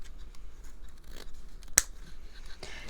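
Scissors make a single crisp snip through ribbon, a brief quiet cut in an otherwise hushed room.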